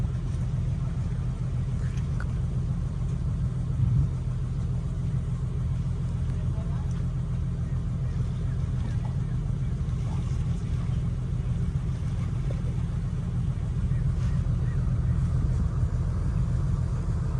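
A boat engine runs on the water, giving a continuous low rumble that holds steady throughout at moderate level, with faint voices in the background.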